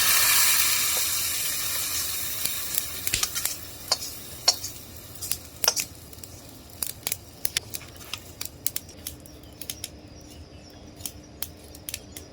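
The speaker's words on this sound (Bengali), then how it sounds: "আমার রসুন পেঁয়াজ ভাজা হয়ে গেছে, এখন খিচুড়িতে ঢেলে দিব।" Garlic and onion fried in oil and poured into khichuri, giving a close steady hiss that eases off into scattered sharp crackles and pops.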